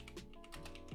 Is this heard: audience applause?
no